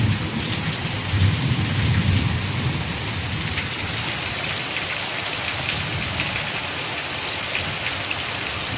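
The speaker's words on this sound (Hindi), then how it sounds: "आज रात पे सडनली हो रहा है बारिश," Sudden heavy rain pours down at night, a steady dense hiss of downpour that fills the whole stretch, with low thunder rumbling underneath early on; no one speaks.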